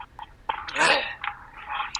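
A single sneeze bursts out close and loud in the middle, with small breathy and throat sounds just before and after it.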